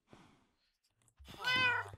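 Two meows from an ocelot in the Minecraft video game, a faint short mew followed by a louder, longer drawn-out cry, clean with no background sound.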